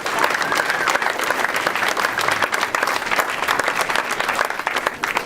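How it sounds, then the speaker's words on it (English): A rally audience in Milwaukee, Wisconsin gives a sustained round of applause, many hands clapping densely and evenly, with some voices and cheers mixed into the steady crowd noise. "Let's give them a round of applause."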